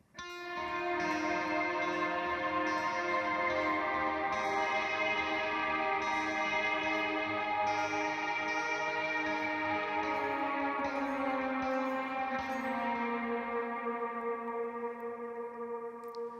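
Arpeggiated chords on an electric guitar, notes ringing into a lush, echoing wash that shifts slowly and sustains throughout.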